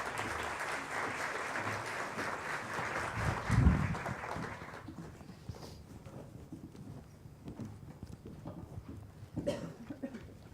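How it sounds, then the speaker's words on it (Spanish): Audience applause welcoming the guest speaker at an education seminar, a broad steady clapping from the whole hall that swells briefly and then fades out about halfway through, leaving a quiet room. "les pido un aplauso para él"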